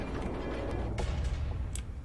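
A door mechanism grinds and creaks open in the Roblox game Facility, a brief mechanical ratcheting with a creaking sweep partway through, heard alone without talk.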